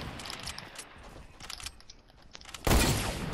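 Scattered gunshots from a video game pop in quick irregular bursts, ending in a sharp louder blast near the end.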